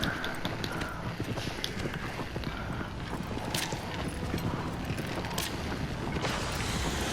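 Horse hooves clip-clopping across ground in the video game Shadow of the Colossus, a steady run of hoofbeats under a dense, continuous game soundscape with occasional creaks.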